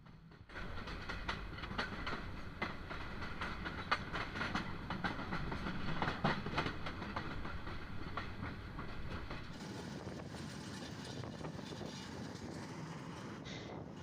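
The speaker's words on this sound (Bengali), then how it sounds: "কাঙ্ক্ষিত ট্রেনটি কিন্তু তার আপন গতিতে ছুটে চলেছে" The Teesta Express passenger train rumbles steadily past at close range on the Dhaka to Dewanganj line, wheels clattering rhythmically on the rails, loud and continuous throughout.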